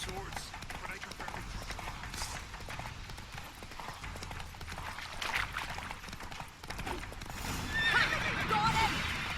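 Horses whinny and gallop with clip-clop hoofbeats during a mounted fight in the video game Witcher 3, with game voices and combat noise mixed in over the whole stretch.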